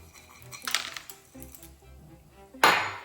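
Peppercorns and pistachios clatter into a bowl of mortadella mixture in a few scattered bursts of small hard clicks and rattles, ending with a louder sharp clink.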